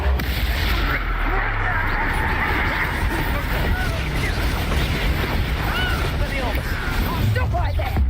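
Spell blasts in the Hogwarts Legacy video game, dense rumbling bursts and crackles mixed into loud, constant combat noise, with voices shouting underneath throughout.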